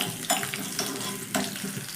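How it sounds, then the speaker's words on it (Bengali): Whole cumin seeds and garlic cloves frying in oil in a pan, a steady soft sizzle with a few brief stirring clatters, fairly close and without speech. "এখানে সুন্দর করে মশলা ভাজা হয়ে গেছে, রসুনের কালারটা হালকা চেঞ্জ হয়েছে"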